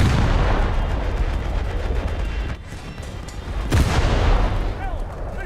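Heavy naval gunfire from a Gearing-class destroyer in a warship video game, with a dense rumbling barrage of booming shots and a sharp louder blast near the end, while a voice talks over it.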